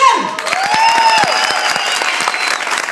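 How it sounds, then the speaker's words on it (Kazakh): Men in a comedy show audience clapping in a loud, sustained burst of applause, with a rising tonal whistle or squeal cutting through the first second and voices faintly underneath. "Көрдіңіздер, жігіттер шапалақ ұра береді."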